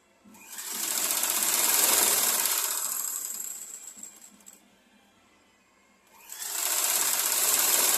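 A sewing machine stitches jacket fabric in two fast, whirring runs: one long burst that slows and fades, a quiet pause, then the motor speeds up again close by.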